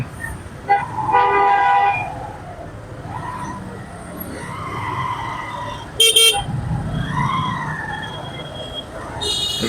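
Vehicle horns honk in busy street traffic heard from a motorbike, several tonal blasts of varying length including a sharp loud burst near the middle, over steady engine and road rumble.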